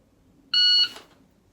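A shot timer gives one short, clear electronic beep of about a third of a second during a dry fire drill. It is loud and close, with a quiet room before and after.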